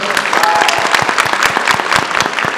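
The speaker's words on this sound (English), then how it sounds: "Round of applause for them." An audience at a PAX East convention panel claps steadily and loudly, dense applause filling the whole moment without pause.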